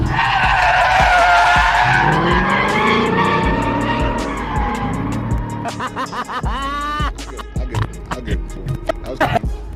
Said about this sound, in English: Oh, you gotta drift. You gotta drift.